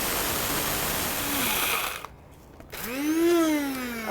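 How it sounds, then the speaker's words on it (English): Close by, a coffee mill grinds spice seeds into powder with a loud whirring motor drone, cuts out briefly, then spins up again with a rising whine. "So we're going to grind this into a powder."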